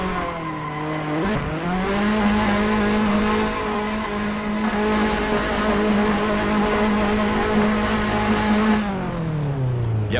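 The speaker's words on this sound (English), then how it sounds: "It's good to see some victory donuts as well." A Formula Alfa race car spins victory donuts after a race, its engine holding a steady high-pitched revving drone with tire squeal layered over it, loud and close throughout and easing off near the end.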